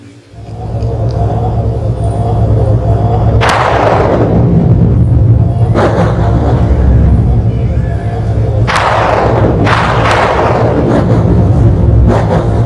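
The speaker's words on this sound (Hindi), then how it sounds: "कड़ाके की बिजली उग्र रूप में चीख कर प्रलय की खबर देने लगी।" Thunder booms during a storm: a continuous low rumble carries several sharp cracking claps and rolling peals at uneven intervals, loud and close, with no talk over them.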